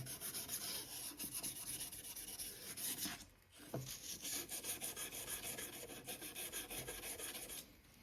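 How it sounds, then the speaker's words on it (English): Crocus cloth rubbing back and forth over American Flyer S gauge model train track rails, a steady close scraping rasp that pauses briefly midway before resuming. "Now we'll just take some croquer's cloth and just fine sand everything."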